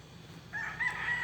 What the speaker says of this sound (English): another rooster.